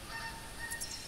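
Geese honk in a hunting video game, several short calls coming close together at moderate distance over a steady ambient background.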